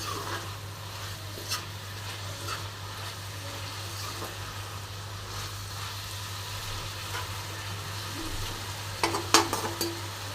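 Boiled potatoes with a sprinkle of sugar are stirred in a frying pan, giving soft scraping and a low steady sizzle, with a few sharper utensil clinks near the end and a constant low hum underneath.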